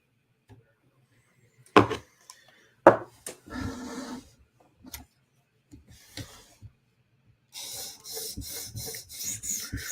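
A PM2 Tanto knife drawn across a 400 grit sharpening stone gives a few short, sharp scraping strokes with pauses between them, then a longer, steady rasping stretch near the end.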